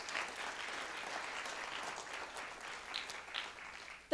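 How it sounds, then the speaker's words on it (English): An investor forum audience claps for the startup companies, a fairly faint, even applause heard from some distance that lasts the whole time. "So another round of applause for all of our 5 companies."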